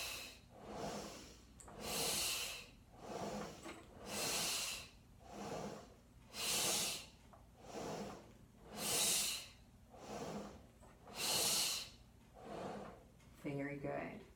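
Rhythmic breathy exhales during a Pilates reformer footwork exercise, about seven long airy breaths spaced every two seconds or so, close and fairly quiet, ending with a brief creak of the equipment.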